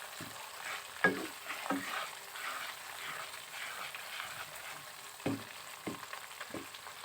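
Spices with turmeric powder fry in a pan for a desi chicken curry, a soft continuous sizzle broken by several sharp scraping stirs of a spoon, close and fairly quiet.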